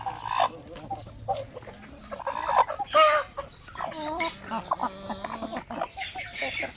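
Free-range native chickens cluck and call in irregular bursts, several birds close by, with squawks rising now and then over a busy farmyard background.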